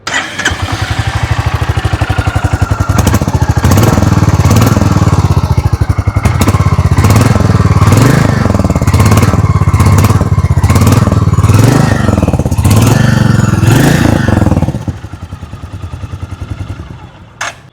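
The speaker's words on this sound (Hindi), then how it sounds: "आइए अभी सुन लेते हैं इस बाइक की एग्जॉस्ट नोट।" A 2026 Royal Enfield Meteor 350 Aurora motorcycle exhaust barks loudly and close, revving up and down repeatedly, then settles into a lower idle before cutting off.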